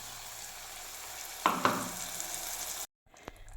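Chili powder masala frying and being stirred in a pan for a Tamil lunch dish, a steady close sizzle with two sharper scraping stirs midway before the sound cuts off abruptly.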